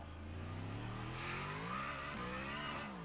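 A race car in a racing video game accelerates around the Portimao circuit, its engine holding a loud, steady, rising whine through the gears with no talk over it.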